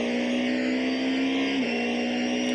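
An Audi A4 Super Touring race car at Amaroo Park sends out a loud, high-pitched engine wail. The tone holds steady, then drops briefly as the car shifts or backs off, then climbs again, close and sustained.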